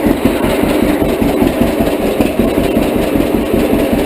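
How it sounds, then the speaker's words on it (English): A 1942 John Deere Model A two-cylinder tractor engine with a slant dash runs steadily nearby, its loud, rhythmic low-pitched barking putt-putt pulsing evenly throughout with no talk. "I like the bark of these old Deeres, so that's the way I run them"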